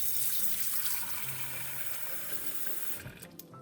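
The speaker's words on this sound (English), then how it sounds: "Fill up your bowl" Hot water gushes steadily from a tap into a bowl for cleaning jewellery, a continuous bright rushing splash that eases off near the end.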